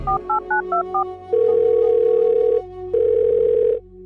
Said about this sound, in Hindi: मैं अभी अपने बेटे को फोन लगाती हूँ